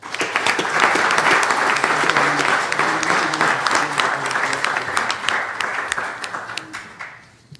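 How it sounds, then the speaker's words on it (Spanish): Audience applause at a molecular genealogy lecture, many hands clapping loudly and steadily with individual claps audible, then thinning out and fading away over the final second. "Solicito un aplauso para el doctor Sergio Antonio Corona Páez."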